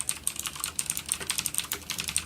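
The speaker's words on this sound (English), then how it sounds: "I also have a CM Storm Quickfire XT mechanical keyboard with the Cherry MX Blue switches" Rapid, crisp clicky keystrokes on a CM Storm Quickfire XT mechanical keyboard with Cherry MX Blue switches, a steady close typing rhythm with no voices.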